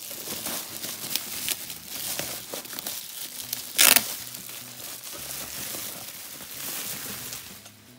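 Plastic parts bags from a 1995 LEGO pirate set, number 6248, crinkle and rustle near the microphone throughout, with one brief, sharper tearing burst midway.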